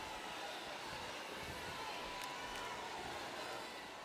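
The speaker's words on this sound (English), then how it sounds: "This capacity crowd is making their opinions known tonight." Arena crowd noise in the RetroMania wrestling video game, a steady wash of cheering and murmuring from a capacity audience that holds constant throughout, with commentary voices talking over it.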